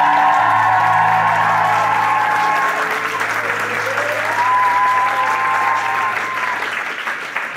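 Live concert audience applauding and cheering loudly in a steady wash of clapping with scattered whoops, holding strong before fading slightly toward the end, while a voice carries faintly over it.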